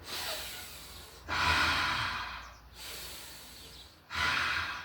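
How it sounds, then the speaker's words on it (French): A person inhales and exhales through an open mouth in a slow breathing exercise, with several long airy breaths close to the mic and brief pauses between them. "Et là, vous inspirez, expire, bouche ouverte."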